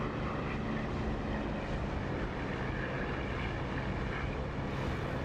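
A propeller aircraft engine in a flight-sim game drones loud and steady with the prop set between 2000 and 2700 RPM and the canopy open, a dense, unbroken roar throughout.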